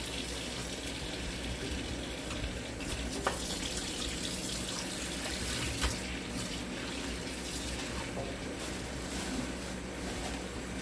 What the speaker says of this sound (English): I can put me a little dishwater in there.